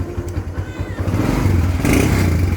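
A Kawasaki Barako 2 motorcycle with new lining that won't pull under throttle idles with a low, uneven rumble, then revs up louder and rougher partway through, heard close by.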